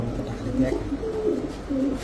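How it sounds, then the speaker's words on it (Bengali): A female Jabra Tota pigeon, an old Bangladeshi breed, gives soft, low, repeated coos close by, in several short bursts with faint background murmur. "তোতা মাদি কবুতর, জাবরা তোতা"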